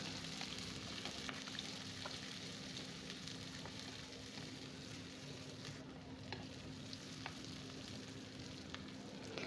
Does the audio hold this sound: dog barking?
no